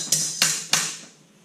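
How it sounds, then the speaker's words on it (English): A hammer strikes a sheet-metal bracket clamped in a vise for a turbo Miata boost controller install: three sharp metallic blows at even intervals, close and ringing, with the last one fading out and no talking. "now we just hammer this down"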